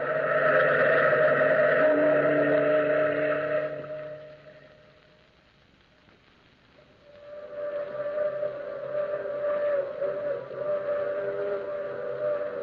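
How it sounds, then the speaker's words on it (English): A through express train sounds a long, moaning, wavering whistle in two sustained blasts separated by a quiet gap, loud and tonal like a distant horn across the night. "That's the long moaning whistle of the through express, wailing through the lonesome night"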